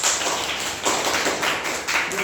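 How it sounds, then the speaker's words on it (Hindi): A classroom of schoolchildren clapping their hands together during a math lesson, a dense, loud patter of many claps filling the room steadily for a couple of seconds. "अच्छा ताली बजाइए।"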